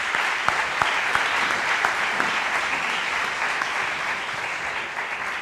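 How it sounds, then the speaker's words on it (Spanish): Steady, dense applause comes from the audience at a young gastronomy talent forum, a continuous close wash of clapping with individual claps popping out, sustained throughout. "Un aplauso, por favor"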